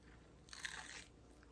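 A bite into a crunchy, puffy tortilla chip made from very wet masa and fried, giving one short, close, brittle crunch against a quiet background.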